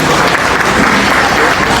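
A crowd at a wedding gathering claps loudly and continuously in welcome of a guest, a dense unbroken wall of applause that holds for the whole moment.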